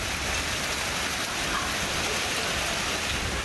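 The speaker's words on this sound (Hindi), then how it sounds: "कहीं हल्की तो कहीं तेज़ बारिश हुई" Heavy rain pours steadily in Karachi after a dust storm, a dense, even hiss with no breaks and no voices.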